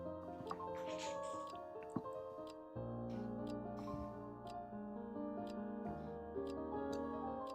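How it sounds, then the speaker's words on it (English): Steady clock ticking in the visual novel Witch on the Holy Night, regular sharp ticks over a constant tonal background with no talk. "Lulled by the ticking of the clock"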